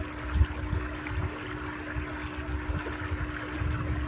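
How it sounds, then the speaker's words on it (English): Stream water flowing at Mesa Verde, a low continuous wash and trickle that stays steady and moderately close, with a faint steady hum running underneath throughout. "enjoy the sound of the water"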